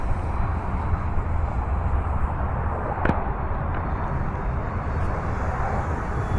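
A Great Planes PT-19 balsa warbird RC model plane flying at about half throttle, its engine a steady, continuous drone that holds fairly even in level flight, with one brief sharp click partway through and no talk.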